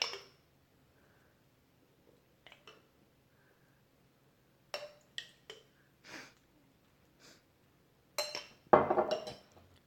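A spoon drops sponge cake batter into a dish, giving a few soft, close clinks and dull plops spaced out in a quiet kitchen.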